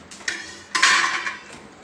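A plate holding papad set down on a metal cooking pot, a few sharp ringing clinks and clatters at close range, the loudest near the middle, with no talk.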